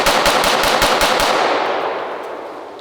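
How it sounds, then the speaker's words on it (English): A Glock pistol firing at a shooting range, a rapid string of about eight sharp shots in quick succession, loud and close, with the reports ringing out into a fading echo. "let's watch this Glock in action"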